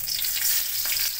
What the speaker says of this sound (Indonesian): Jadi kita masuk nampak ke bawang putih, bawang merah. Kita buat bahan, kita tumis bahan kita itu saja.